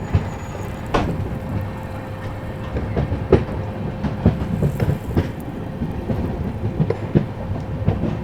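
Aboard the Kaifiyaat SF Express after it leaves Dauli, a steady rumble of the running train with irregular clickety-clack thumps from the wheels over rail joints.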